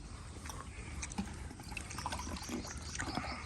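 Drinking water is poured in a village home, producing a steady light trickling and splashing, close to the microphone at moderate level and heard alone without talk.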